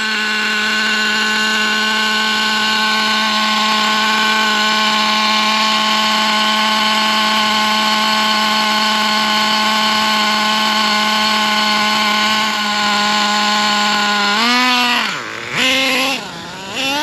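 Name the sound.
Traxxas T-Maxx nitro RC truck engine warming up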